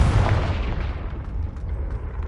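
A Confringo fire spell bursts in Hogwarts Legacy, a loud, close, deep boom that rolls off into a fading rumble over about two seconds.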